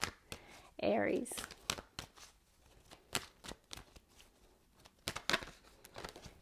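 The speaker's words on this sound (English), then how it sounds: "let's shuffle the cards" Tarot cards are shuffled by hand in a series of quick papery riffles, soft taps and crinkles in an irregular rhythm, close and fairly quiet, with a brief spoken word partway through.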